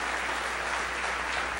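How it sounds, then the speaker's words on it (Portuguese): Congregation applause at a church convention, a dense, even wash of many hands clapping together, continuous and fairly loud for the whole moment. "Vamos aplaudir Jesus mais forte"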